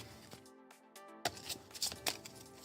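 Board game cards being shuffled from a pile during a tabletop session, a soft papery riffle followed by a run of crisp flicks and taps up close, with no talking.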